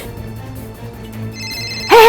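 A phone ringtone for an incoming call bursts in suddenly and loudly at the very end, cutting through a quiet, low indoor background.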